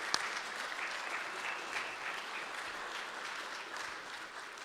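An audience at a chapter leadership summit claps steadily for several seconds, a dense, moderately distant round of applause with no voices over it.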